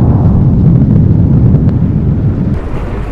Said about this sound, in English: Each explosion begins with weak emissions of hot gas and small lava flows